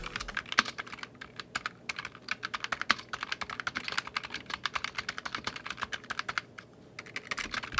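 Rapid, steady typing on a mechanical keyboard with red switches, soft muted keystrokes clattering continuously at close range.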